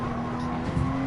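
A Porsche 911 RSR race car in Gran Turismo Sport holds a steady high engine drone with a brief tyre squeal near the end, loud and close with no talk.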